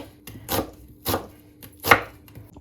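Onion being chopped with a knife for a Jaffna-style coconut milk chicken curry; three sharp, close knife strikes on a board, spaced roughly half a second apart, with quiet pauses between.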